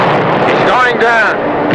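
Ship's deck guns boom in heavy, sustained firing during a naval engagement, loud and close, with sharp whistling tones sweeping through the din.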